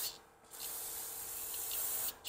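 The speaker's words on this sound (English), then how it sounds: "Just spraying out these passages real quick." Aerosol cleaner sprays in a steady, loud hiss through the passages of a Keihin butterfly carburetor from an AMF-era Harley, with two brief pauses between bursts.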